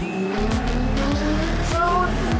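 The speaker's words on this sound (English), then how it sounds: "Just hoping the nitrous works, and it's definitely working. The car is moving." Drift car on nitrous competing in a top-16 drift battle, engine roaring loud and close with rising revs and tires squealing and skidding throughout, a second car audible nearby.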